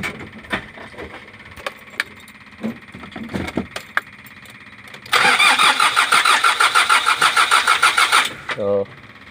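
A Hyundai Porter 2 truck's D4CB engine, with a fuel pressure regulator open circuit fault, cranks repeatedly in a loud, rhythmic churning burst for about three seconds without catching, after scattered clicks and handling noises.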